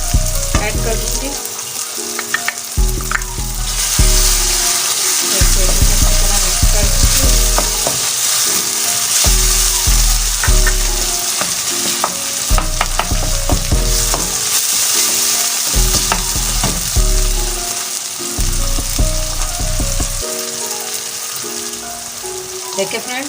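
Tomatoes with garlic and ginger sizzling steadily in a pan, with repeated scraping and stirring strokes from a spoon throughout, loud and close, with no talk over it.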